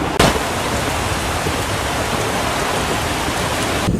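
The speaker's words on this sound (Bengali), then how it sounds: "বৃষ্টি একটু থামছে, কিন্তু আকাশে বজ্রপাত হইতে আছে, বিদ্যুৎ চমকাইতে আছে, কিন্তু বৃষ্টি থামছে" Steady heavy rain pours down during a thunderstorm, a dense unbroken hiss that stays loud and even throughout, with a brief sharper burst near the start.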